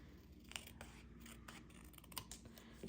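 Scissors snip through paper to cut out a paper snowflake, a string of short, close, soft crisp cuts with small rustles between them, in a quiet room with no talking.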